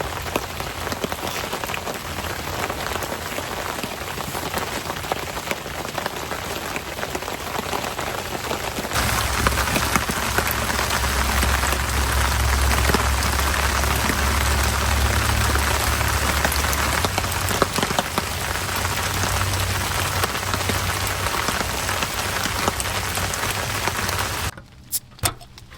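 Steady rain pattering on a surface at a campsite beside a Subaru Outback, a dense, continuous hiss that swells louder partway through and then cuts off abruptly near the end.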